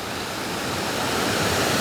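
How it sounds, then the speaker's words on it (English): Tessentee Creek running beneath a bridge, a steady close rush of flowing water that swells slightly louder toward the end, with no voices. "We're standing on the bridge over the Tessentee Creek."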